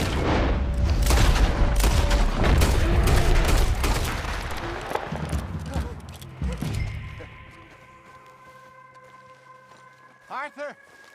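Rapid bursts of gunfire hit a bear in the video game Red Dead Redemption 2, dense loud shots packed together for several seconds before thinning out into quieter sounds with a few scattered later blips.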